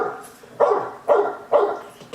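A dog barks close by, four sharp barks spaced about half a second apart, clear and loud with no talking.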